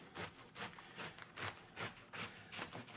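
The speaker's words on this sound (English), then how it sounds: "And we're going to cut these about an inch thick" Knife slicing through a cabbage into inch-thick pieces on a cutting board, about eight crisp, evenly paced chopping strokes, close and clear, with no talking.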